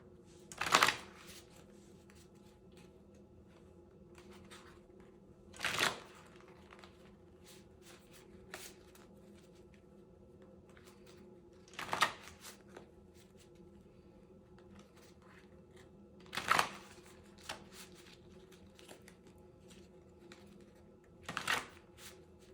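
Oracle and tarot cards shuffled by hand, five separate quick riffling bursts spaced several seconds apart against a quiet steady background hum.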